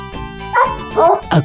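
A dog barking close by, a few short, loud barks with whiny yips mixed in, over about a second and a half.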